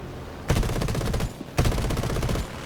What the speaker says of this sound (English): That's some horrible shooting, Joe.